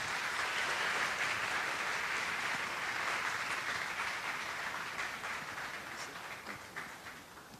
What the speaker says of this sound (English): I would like you to give him the warmest round of applause that you can